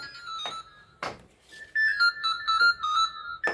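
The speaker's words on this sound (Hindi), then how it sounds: "किसका फ़ोन है" Mobile phone ringtone chiming in a home kitchen, a melodic electronic tune of short repeating notes, moderately near, interrupted by a few clattering knocks and bumps.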